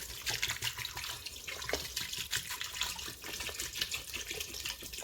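Water pouring into a pressure cooker over mutton trotters for paya, made with ginger pieces, giving a steady close splashing and trickling stream.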